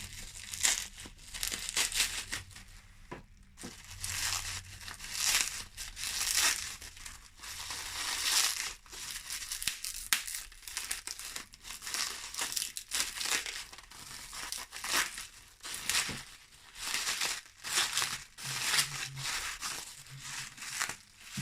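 Continuous crinkling and tearing as very sticky sellotape is pulled and peeled off a Tesla coil violet ray generator's packaging, close up with irregular rustling bursts and no voices.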